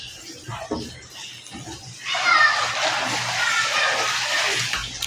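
Water poured into a tub or basin splashes steadily from about two seconds on, loud and continuous, after a stretch of quieter background with a voice and faint talk.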